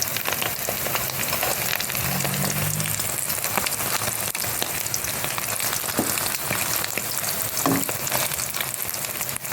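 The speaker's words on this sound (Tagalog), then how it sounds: "ito na yung niluluto kong portang sardinas na may dahon ng malunggay" Small sardine patties with moringa leaves fry in hot oil, giving a dense, continuous, rain-like crackle with no pauses throughout.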